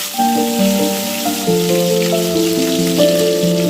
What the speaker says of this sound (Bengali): তেলটা গরম হয়ে গেছে ভেটকি মাছগুলো ভাজার জন্য এবার কড়ার মধ্যে একটা একটা করে দিয়ে দিলাম